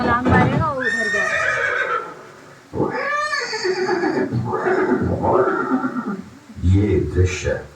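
A horse neighs loudly in several drawn-out whinnies at a Haldighati war re-enactment site, with hoof sounds mixed in and a voice-like quality that may come from a recording or performer, close and dominant.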